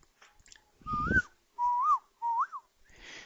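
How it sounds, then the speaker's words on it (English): A person whistles a few short, rising and falling tones in separate bursts, with a breathy noise and brief pauses between them. "just had to test the whistle, make sure it was a whistling"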